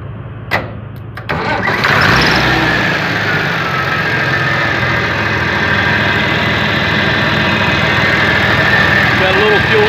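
A freshly rebuilt Massey Ferguson 1130 tractor engine with a small fuel leak at the injection pump cranks over and catches, then runs at a loud, steady idle close by for the rest of the clip.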